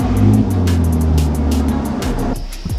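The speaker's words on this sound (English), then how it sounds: "Go ahead and drive it all the way inside." A car rolls into a garage for a tire change, its engine humming steadily at close range before cutting out near the end.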